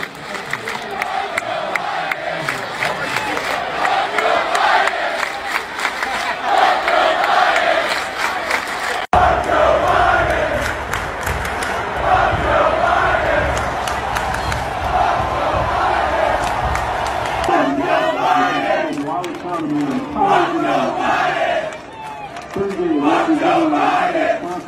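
A huge stadium crowd chants a rhythmic slogan in unison, the massed voices rising and falling in a repeated cadence over a constant roar, with cheers and shouts mixed in throughout.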